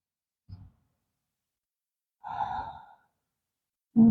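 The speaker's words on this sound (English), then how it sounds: "Take one more full round of breath here." Slow, soft breathing during a gentle yoga flow, a brief faint exhale followed by a longer audible sigh-like breath, quiet and close in an otherwise silent room.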